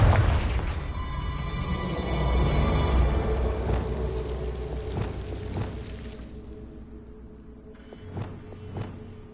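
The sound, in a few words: Confringo spell blast from Hogwarts Legacy video game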